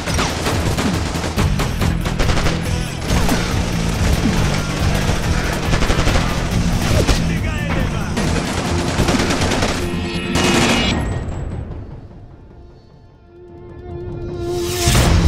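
Heavy gunfire in the GeoPolice 2 police drama: loud, continuous automatic bursts and overlapping shots roar for about ten seconds, then fade before a final volley returns.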